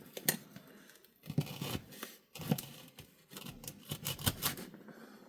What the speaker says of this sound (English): You're going to try that push cut again. So we're going to push down and roll forward.